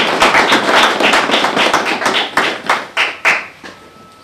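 A small audience gives a round of applause at a community recognition event, a burst of sparse, close hand claps that thins out into a few separate claps before stopping.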